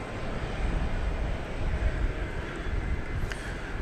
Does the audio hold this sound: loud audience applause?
no